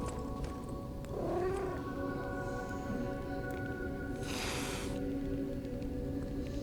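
A cat in the Lies of P video game lets out a single drawn-out, whiny meow against a steady musical drone, followed by a short hissy burst a few seconds later.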